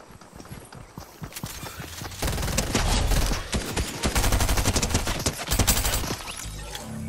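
Rapid bursts of charging SMG fire in Fortnite crackle through a busy firefight, with dense sharp transients growing louder and more continuous midway through, mixed with other game gunfire and scuffling movement.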